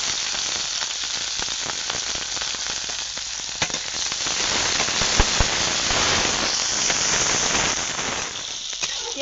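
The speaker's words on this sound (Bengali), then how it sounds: "পেঁয়াজ লঙ্কা হালকা করে ভেজে নিয়েছি।" Onion and green chili sizzle and crackle steadily in a hot pan, a loud, continuous frying hiss with scattered pops throughout.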